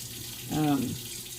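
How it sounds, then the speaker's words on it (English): A kitchen faucet runs steadily in the background, a soft continuous splash, while a short voiced sound rises briefly over it. "That's just the water in the background you hear running"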